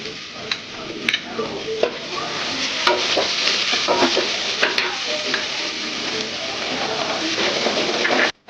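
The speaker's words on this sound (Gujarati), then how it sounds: "ડુંગળી ત્યાં સુધી થોડી સાંતળવા દેવાની છે." Onions and green chillies sauté in hot oil with a steady close sizzle, punctuated by sharp clicks and scrapes of a spoon stirring against the pan before it cuts off abruptly.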